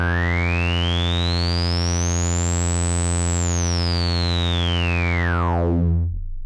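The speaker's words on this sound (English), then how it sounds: "put the resonance all the way to the top, as this thing will actually self-resonate" A buzzy synthesizer tone plays while its filter, pushed to maximum resonance so it self-resonates, sweeps slowly up into a piercing whistle and back down. The sound stays loud and steady, then cuts off near the end.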